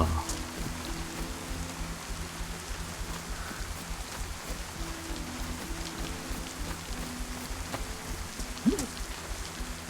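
Steady rain falls in the video game DayZ, a continuous even hiss that holds throughout with a low hum underneath and no voices.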